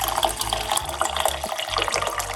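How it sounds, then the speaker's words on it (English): A cup of water poured into a juicer while making turmeric and rosemary juice, a steady splashing, running pour heard up close for a couple of seconds with no voices. "put 1 cup of water"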